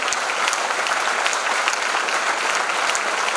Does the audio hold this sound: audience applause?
yes